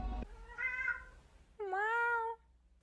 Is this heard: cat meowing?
yes